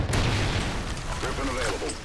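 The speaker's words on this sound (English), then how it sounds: "Trinity rocket inbound." Trinity rocket strike exploding in Call of Duty Advanced Warfare: a deep, rumbling boom that rolls out at the start, followed by a lingering low roar with a voice speaking over the tail.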